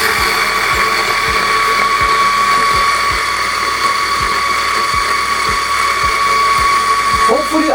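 A DF54 coffee grinder grinds beans while choking on fines. Its steady high motor whine carries on loudly throughout, with a soft regular ticking under it and a brief clatter near the end.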